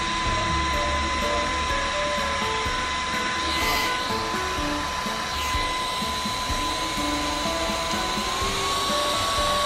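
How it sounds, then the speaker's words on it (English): A Goojodoq turbo fan whirs at level 20 with a steady, loud, high-pitched airflow hiss and a constant motor whine, running continuously and close by. "Testing how powerful my turbo fan is."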